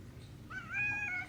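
A pet cat, a young neutered smoky-grey male, gives one drawn-out meow with a slight falling tail, close and moderately loud, over a low steady background hum.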